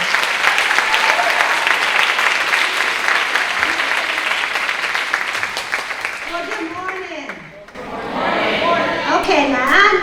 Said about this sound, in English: Please help me welcome, with an ACES welcoming round of applause, Dr. DeRionne Pollard, the President of Montgomery College.